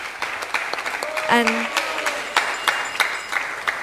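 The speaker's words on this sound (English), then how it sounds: "let's give them a round of applause to encourage them" Audience applause for a youth kirtan team at an awards ceremony, a steady wash of clapping running throughout with a brief voice cutting in near the middle.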